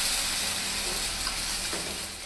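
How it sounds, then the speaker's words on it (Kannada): Ginger garlic paste sizzles in hot oil in a pan, a steady, bright hiss that stays even and close with no talk over it. "ಮೊದಲು ಒಂದು ಪ್ಯಾನ್ಗೆ ಎಣ್ಣೆ ಹಾಕೋಬೇಕು. 1 ಸ್ಪೂನ್ ಶುಂಠಿ ಬೆಳ್ಳುಳ್ಳಿ ಪೇಸ್ಟ್ ಹಾಕೊಳ್ಳೋಣ."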